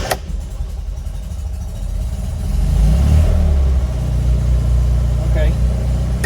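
A 1970 Fiat 500 engine rumbles steadily while driving, swelling into a louder rev midway and holding a strong low drone, with people talking over it.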